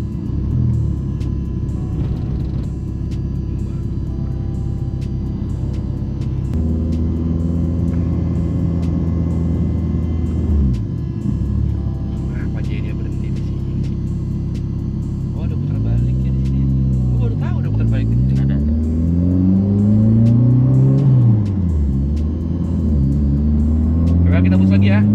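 A car engine of over 400 horsepower revs hard, pitch climbing and dropping through gear changes as the vehicle speeds up, heard from inside with people talking over it.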